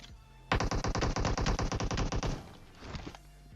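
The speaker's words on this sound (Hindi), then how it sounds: "उसके बाद भी वो अभी गोली चला रहे हैं" Sustained burst of automatic gunfire in the battle royale game PUBG, a rapid, loud string of about twenty evenly spaced shots, then a quieter, more distant volley trailing off after a short pause.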